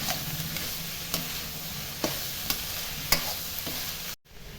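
Curry leaves and green chillies sauté in a pan over a low flame, a soft steady sizzle broken by a few sharp ticks of stirring, quiet and close, ending in a brief cut to silence.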